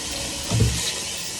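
Tap water pours steadily into a pot of potatoes, a continuous close hiss that swells briefly in the middle.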